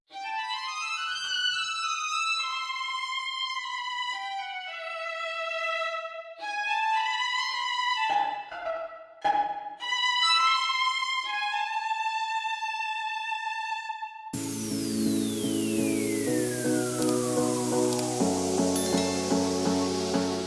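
A solo violin plays a lively melodic line of bowed notes, loud and close; near the end a hissy, noisy sweep enters under sustained tones.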